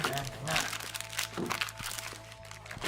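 Crinkly plastic packaging holding a Dragon Ball Z figure crackles and crunches in close, uneven bursts as it is pulled open, with a person talking throughout.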